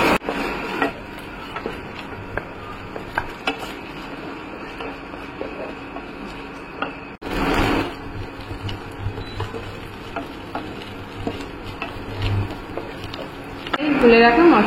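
A metal spatula scrapes and clinks in a pan of frying onions, spices and ginger-garlic paste, with faint sizzling beneath; a person talks over the steady stirring.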